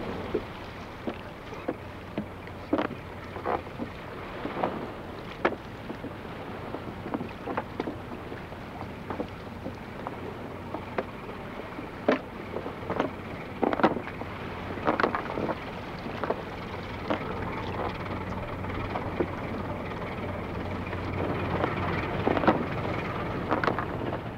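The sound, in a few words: fishermen rowing a flat-bottomed wooden fishing boat on the Rhine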